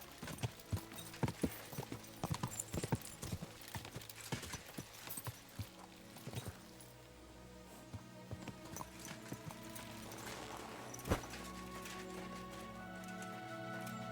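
Hooves of a galloping horse in the medieval video game Kingdom Come: Deliverance II drum in a fast, steady clip-clop, with a brief whinny and a sharp thump near the end over a low ambient bed.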